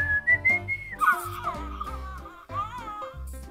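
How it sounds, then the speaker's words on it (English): A person whistles a wavering tune while a toy monster sings along in a warbling electronic voice, the two overlapping in short bursts, close and fairly loud. "when you whistle, he sings with you."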